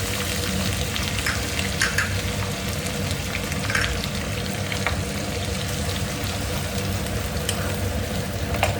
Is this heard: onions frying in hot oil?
yes